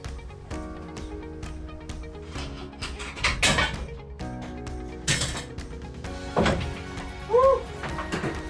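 A coil spring compressor on a 1994 Silverado drag truck build is tightened slowly, producing a series of metallic clicks and ratcheting turns with occasional louder creaking strains, close and unhurried.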